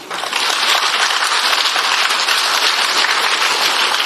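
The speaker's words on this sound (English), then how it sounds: "Clap your hands." An audience at a live alumni event clapping hands hard and fast in unison, a loud dense wall of claps that starts abruptly and holds steady throughout.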